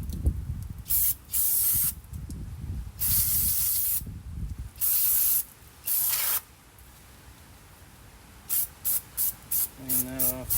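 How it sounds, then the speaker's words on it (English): A hose sprays down the rear brakes of a 2007 Jeep Wrangler in loud, broad hissing bursts of a second or two each, separated by quieter gaps, ending with several short rapid spurts. "So, I'm just going to do a quick hose down."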